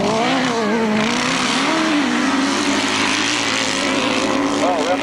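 Several grasstrack motorcycles roar away from the start line at a 1992 600cc grasstrack meeting, a dense, continuous engine drone with rising and wavering pitch, loud and sustained, with a commentator talking over it.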